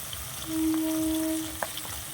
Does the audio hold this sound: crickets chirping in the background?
no